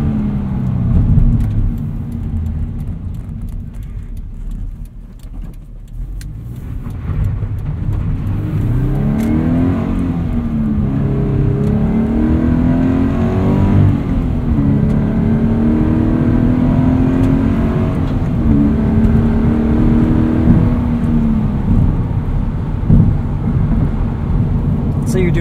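A car engine rises and falls in pitch through repeated revs during heel-and-toe downshifts, loud and close from inside the cabin with a steady road roar underneath.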